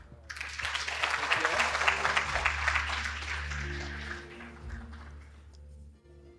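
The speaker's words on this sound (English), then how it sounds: "Please welcome it with a big round of applause." An audience at a technology cooperation forum claps to welcome a speaker, a full burst of applause that builds quickly, holds, then thins and fades while a voice begins speaking underneath.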